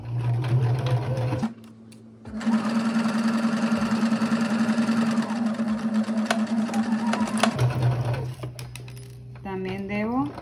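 Close-up sewing machine stitching a dart on fabric, starting with a backstitch then running a long steady hum of rapid stitching for several seconds before stopping, with quieter pauses and handling sounds around it.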